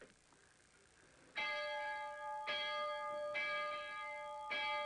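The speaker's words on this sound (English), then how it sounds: "This locomotive has a very beautiful bell. I'm going to ring it for you" A bright, clear locomotive bell rings three or four times at an even pace, each strike ringing on with long sustained tones, close and alone.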